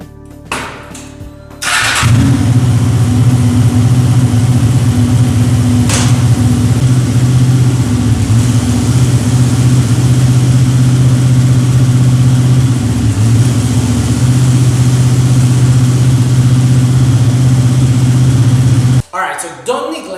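A Honda VFR800 motorcycle runs on its center stand, its engine holding a steady, loud low hum for most of the stretch after a sharp start-up and a brief click partway through, then cutting off near the end.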